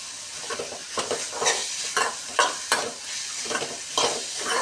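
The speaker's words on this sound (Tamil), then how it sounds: "இதை போட்டு நல்லா வதக்கிட்டு கொஞ்சமாக தண்ணி சேர்த்து" Flat beans with egg are sautéed in a pan, with a close, steady sizzle broken by rhythmic scraping strokes of a spatula roughly every half second, and nobody talks.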